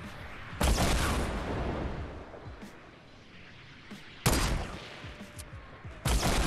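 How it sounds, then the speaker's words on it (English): Gunfire and rocket blasts in the Fortnite video game, several sharp loud bursts, each followed by a rumbling tail, with quieter crackling shots between them. "Guy with rockets wants to shoot us down."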